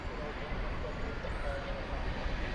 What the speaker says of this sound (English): And here comes that UPS 767